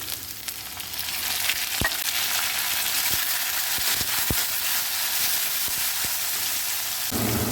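Chopped tomatoes frying in a pan, a steady dense sizzle with a few sharp crackles and pops throughout, close and fairly loud with no voice.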